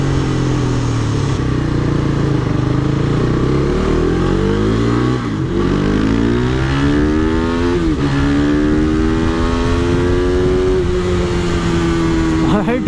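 A loud modified KTM RC390 sport motorcycle engine revs and climbs through gears on a highway, pitch sweeping upward and dropping between shifts, with wind rush and a voice faintly under it.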